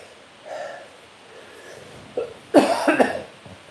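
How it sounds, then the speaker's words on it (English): A man coughs a few times in a rough burst after tasting a hot scorpion pepper, with a quieter throaty sound before it; no talking. "The old cough, the cough."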